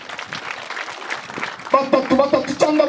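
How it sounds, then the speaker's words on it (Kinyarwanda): A church congregation in Rwanda claps for God during a healing service, a soft spread of applause rising under a preacher's amplified voice, joined by music as the clapping grows. "mukomere Imana amashyi."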